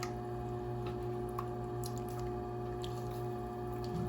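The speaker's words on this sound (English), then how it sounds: "get my pulling sponge in the water" Pottery sponge dipped into water beside a wheel during bowl throwing, giving soft, faint squishes and drips over a steady mechanical hum.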